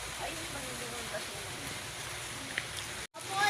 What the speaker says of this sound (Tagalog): Maulan na.